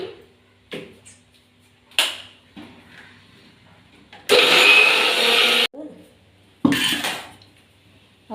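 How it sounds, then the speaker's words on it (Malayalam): A kitchen mixer grinder crushes coconut paste coarsely for mango sardine peera, in a loud broadband whir about a second long and then a shorter burst, between clinks of dishes and pans. "നല്ലോണം അരക്കില്ല, ഒരുമാതിരി ചതച്ച രീതിയിലെടുക്കും. അത് മിക്സിയുടെ ജാറിലിട്ടിട്ട്"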